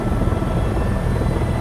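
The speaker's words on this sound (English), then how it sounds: "so that was the end of our beautiful helicopter ride" A helicopter lands on the Big Island of Hawaii with a loud, close, continuous rotor thump and engine roar that holds steady throughout, with no voices over it.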